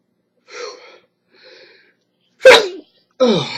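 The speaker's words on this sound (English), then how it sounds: "I'm going to sneeze." A couple of soft breathy intakes build up to a single sharp sneeze, followed by a brief exhaled groan close by.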